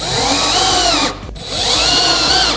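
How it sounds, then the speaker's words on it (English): Power drill driving screws into an L bracket on a NorthPoint 3-drawer base cabinet, two loud sustained whirring bursts separated by a brief pause, close up with no talking. "I like to put them in the bottom first so I can make sure that this is up tight when I put these screws in."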